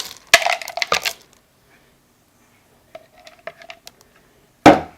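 Dark chocolate chunks are poured into a bowl for double chocolate caramel cookies. There are a few separate bursts of hard, clinking pattering, loud and close, split by stretches of near silence.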